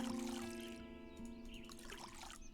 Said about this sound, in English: Water this even if it didn't grow.